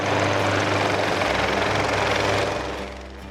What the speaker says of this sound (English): the fog lifts and the helicopters get to work.